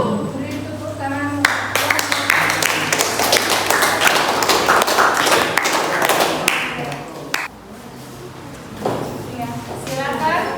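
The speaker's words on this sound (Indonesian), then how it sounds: "Beri tepuk tangan." Schoolchildren in a classroom clap together in a lively burst of uneven hand claps, with voices talking over it before and after the applause fades.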